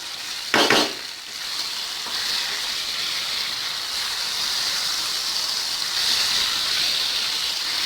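Pepper chicken with curry leaves and coriander leaves is stirred in a hot pan, giving a steady close sizzle with a brief louder scrape near the start and no talking.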